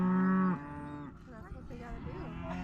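A cow gives a loud, drawn-out moo during a ranch cattle roundup where animals are being vaccinated, branded and tagged, followed by softer bellows, shuffling and handling noise from the working pen.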